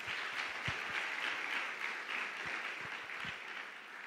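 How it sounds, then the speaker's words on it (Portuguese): Church congregation applauding at a Quadrangular (Foursquare) evangelical gathering in a home setting, a steady wash of clapping held at an even level throughout with a few sharper claps standing out, fairly soft and without speech over it. "Vamos aplaudir os homens"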